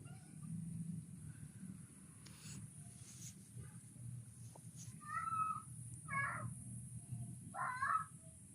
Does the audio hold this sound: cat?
yes